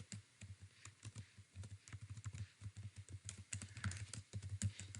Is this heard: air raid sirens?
no